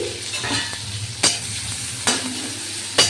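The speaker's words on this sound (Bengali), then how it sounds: "এবার মাছের তেলটার মধ্যে দিয়ে দিলাম পেঁয়াজের কুচি, এই যে পেঁয়াজের কুচি, রসুনের কুচি" Chopped onion and garlic fry in fish oil for a Bengali shak ghonto, a steady sizzle punctuated by three sharp, evenly spaced clanks of the utensil against the pan, with no speech.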